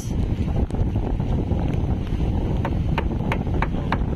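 Strong super typhoon wind buffets the microphone in Dinahican, Infanta, Quezon, producing a constant loud roaring rush with sharp gusty thumps and rattles throughout.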